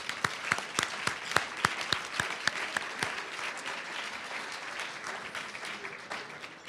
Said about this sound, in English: Rachel Warby and the Women of Musique need another round of applause